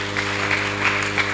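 Congregation at a Sunday church service applauding, a short burst of even, steady clapping that swells slightly in rhythmic pulses over about a second and a half.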